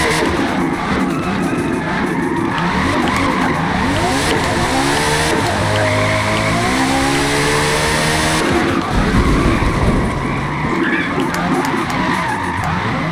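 A 2018 TVR Griffith with a rear-wheel-drive turbo drift tune slides through a drift in Forza, its tires squealing continuously over a loud, revving engine for the whole stretch.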